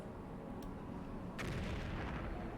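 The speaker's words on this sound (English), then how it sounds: "outhouse had the most impressive explosion" Explosion of a destroyed outhouse in the MechCommander video game, a broadband blast bursting in after a brief crack and rumbling on loudly to the end over a steady low background.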